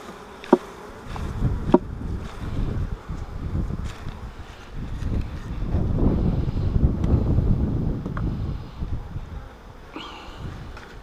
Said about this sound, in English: I need to put these bees back in there